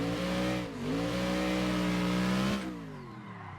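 A racing car engine in a driving video game played on a motion simulator revs hard in fourth gear, its pitch sweeping up and down as it accelerates, loud and close with no talk.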